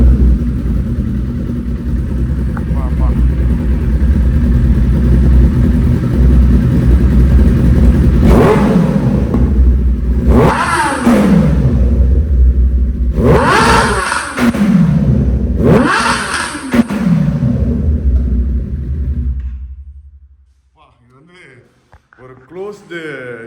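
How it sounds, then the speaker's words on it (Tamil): A Kawasaki ZX-10R superbike's exhaust rumbles loudly at idle up close, then snaps through four sharp throttle blips before the engine cuts off and falls quiet. "நான் வந்து உங்களுக்கு அந்த எக்ஸாஸ்ட் நோட் எப்படி இருக்குன்றதை இப்போ அப்படியே ட்ரையல் ஓட்டி காமிக்கிறேன்"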